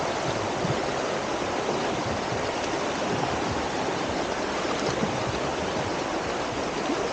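A muddy, swollen river rushes steadily and loudly beside the Segesta thermal baths in Sicily, a dense continuous wash of flowing water with no voices.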